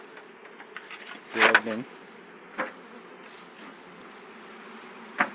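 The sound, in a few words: honey bees buzzing during hive transfer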